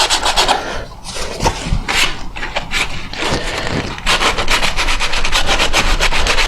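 A non-scratching dish sponge scrubs silicone off the left engine cover of a 1974 Yamaha TY250A, producing close, repeated rasping rubs in quick back-and-forth strokes.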